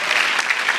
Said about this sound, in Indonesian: Boleh tepuk tangan dulu buat kita semua biar semangat.